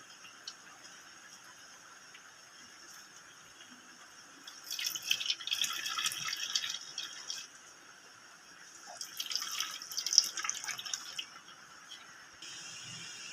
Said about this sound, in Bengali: এভাবে পাকিয়ে পাকিয়ে দুধটা বার করে নেব।